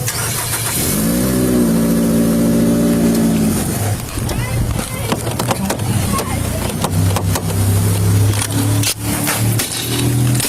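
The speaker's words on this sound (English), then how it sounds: "The car starts." A Nissan Altima's engine cranks and starts loudly, then revs hard in repeated bursts before settling, with people talking over the engine noise.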